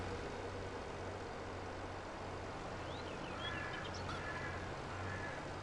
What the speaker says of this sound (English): This tractor's really slow now because it needs repairing massively.